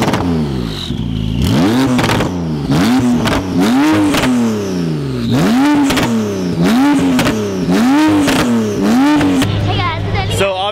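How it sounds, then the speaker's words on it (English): A Porsche sports car engine revs repeatedly in rising, falling surges, loud and close, about eight throttle blips in a steady rhythm before settling to idle. "Obviously that little clip was of Wes's Porsche lifting up and then revving."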